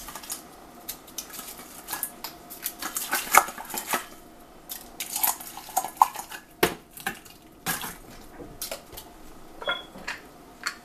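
Ice cubes dropped and clattering into a blender jar for a mango smoothie, a scatter of sharp clinks and knocks in irregular bursts, fairly close and alone.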